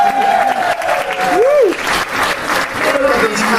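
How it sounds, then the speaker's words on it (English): Steady applause from an audience at a podcast event, dense and sustained for the whole stretch, with a voice and whistle-like tones riding above the clapping. "Keep your clapping up, boys."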